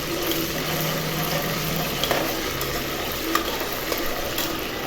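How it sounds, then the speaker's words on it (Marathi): Ginger-garlic paste sautéing in a pan for soya chunk khichdi, a dense continuous sizzle with a few light scrapes of stirring, close and even in loudness, without talk. "त्याच्यामध्ये आलं लसूण पेस्ट घालायची आहे आणि ती चांगल्या पद्धतीने परतून घ्यायची आहे"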